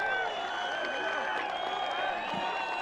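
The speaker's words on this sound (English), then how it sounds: "Loudest I've heard the crowd go today." Spectators at a rugby sevens match between Uzbekistan and Pakistan send up a sustained, fairly distant roar of overlapping shouts, whoops and cheering voices.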